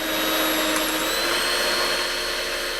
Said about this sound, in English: Listen to the sound of the electric whisk.